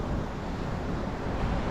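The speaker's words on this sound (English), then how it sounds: "An empty beach along the Atlantic" Atlantic surf washes onto an empty beach at Cape Henlopen, a broad continuous roar of waves mixed with gusty wind buffeting the microphone, with no voices.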